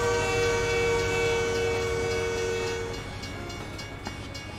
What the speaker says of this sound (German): Ah, Züge.